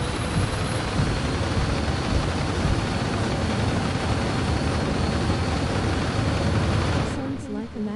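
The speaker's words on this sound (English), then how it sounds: "It's really just a god-awful sound of an engine for a car." A car engine in the racing video game Gran Turismo 7 drones loudly and steadily for several seconds, a dense buzzing roar that cuts off near the end.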